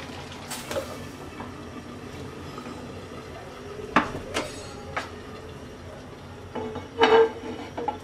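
A metal tawa griddle is set on a kitchen stove after a pot of chicken is lifted off, producing a few scattered clanks and scrapes of cookware over a low background hiss.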